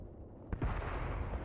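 Artillery explosions in the WW2 video game Mius Front: a sharp blast around the middle is followed by a sustained low rumbling roar of distant shelling and gunfire that continues to the end.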